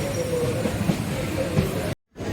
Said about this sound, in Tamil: அமராவதி ரயில் பாலத்தை நெருங்கிக் கொண்டிருக்கிறோம்